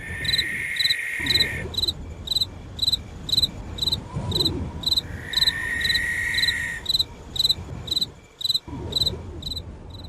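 Crickets chirp at night in a steady, rapid rhythm of high pulses, close and clear, with a few brief pauses against a low murmuring background.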